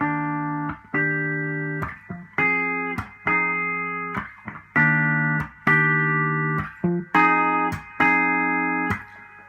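A Peavey EVH Wolfgang electric guitar on the bridge pickup plays sustained chords, strummed in a steady rhythm with brief pauses between them, bright and twangy, no voices.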